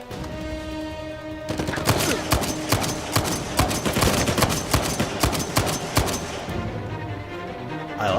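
Metler M30 gun fired in Uncharted 4: rapid, sharp bursts of gunfire in quick succession, loud and close, with a brief lull before they start and the shots trailing off near the end.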